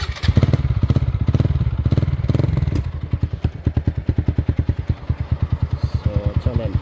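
A motorcycle fitted with an aftermarket exhaust, ridden along a road, gives a loud, close, rhythmic exhaust throb that quickens under throttle, then settles into a steady, evenly pulsing chug.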